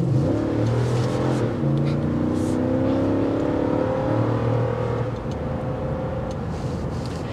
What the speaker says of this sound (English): you could hear that engine roar